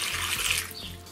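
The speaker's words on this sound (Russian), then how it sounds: "Заливаем водой по самые помидоры" Water pours steadily into a jar packed with cucumbers and tomatoes for quick lightly salted pickles, a continuous close splashing rush with no talk.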